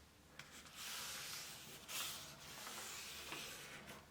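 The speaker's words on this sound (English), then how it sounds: "Try and make this a nice sharp crease using your thumbnail. Just rub it along there." A thumbnail rubs along a folded sheet of paper to press a sharp crease, making soft, faint scraping strokes close by in a few continuous passes.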